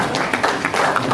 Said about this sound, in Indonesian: Kita tepuk tangan dulu ke bawah.